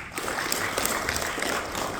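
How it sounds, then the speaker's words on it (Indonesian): An audience at a service excellence training session applauds, producing dense, continuous clapping that stays loud and steady for the whole two seconds with no voices over it. "kita tepuk tangan untuk Bapak Uton Wartono."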